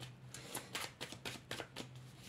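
Tarot cards being shuffled by hand: a run of about eight quick, papery riffling bursts in a steady rhythm, close and clear over a low, constant hum, with no voices.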